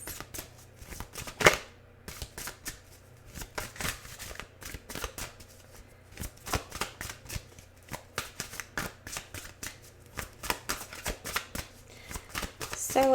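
Tarot cards shuffled by hand during a love reading, a steady stream of crisp riffling and flicking bursts close to the microphone, with a quiet voice faintly underneath at times.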